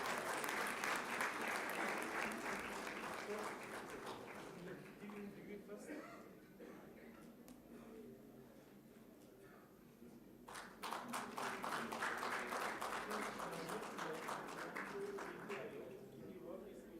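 Convocation audience applauding a graduate in a large hall, dense clapping that swells, thins for a few seconds in the middle, then surges back loud and full.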